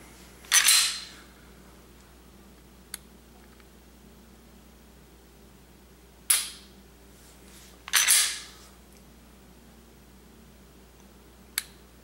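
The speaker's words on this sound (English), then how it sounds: "it's a little bit longer of a reset, a little bit heavier of a trigger pull" Trigger pulls and resets on a Smith & Wesson M&P 9mm pistol produce a few sharp, close mechanical clicks and snaps, spaced seconds apart, alone against a quiet background.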